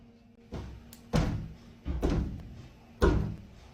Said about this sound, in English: I've been hearing banging for a good little while now.